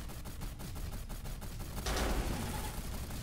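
Rapid gunfire from the multiplayer tank-and-vehicle combat game Gear Up, a dense rattling barrage that continues throughout and swells into a heavier, louder burst partway through, with no talking.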